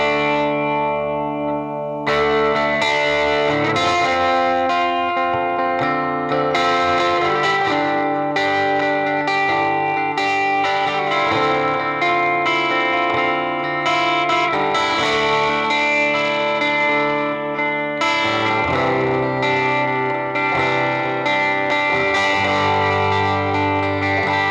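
Electric guitar on its bridge pickup, played through a Hehku Tramp 5-watt amplifier, rings out in sustained chords and melodic lines with a driven, effects-laden tone and some reverb, loud and continuous after a brief pause near the start.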